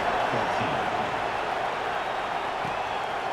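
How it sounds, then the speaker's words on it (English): A stadium crowd at a Texas A&M versus LSU football game in the NCAA 26 video game buzzes steadily after a touchdown, a continuous, moderate murmur and cheer with a commentator's voice faintly audible. "this crowd is buzzing after that last score"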